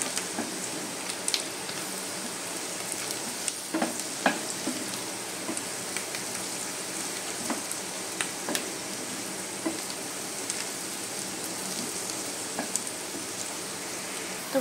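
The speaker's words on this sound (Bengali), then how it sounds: "তো ফোড়নটা ভাজা হয়ে গেছে এখানে" Onion and garlic sizzle steadily in hot oil for a spice tempering, a dense crackling fry that carries on throughout with occasional sharp pops and stirring scrapes.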